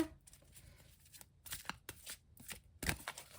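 Tarot cards shuffled close up in quiet, a series of soft riffling and slapping bursts of card against card, sparse at first and then coming in quicker clusters.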